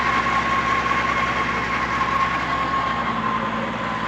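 A Fiat 480 tractor in good condition runs at a steady idle, its loud, close diesel rumble droning evenly throughout with no voices over it.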